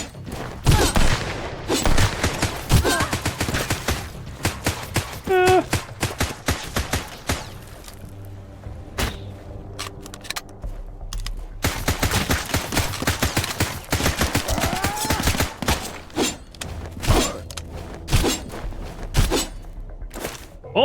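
SMG gunfire in the video game Sunkenland comes in rapid bursts and sustained volleys, loud and dense, with brief lulls and a few isolated shots in between.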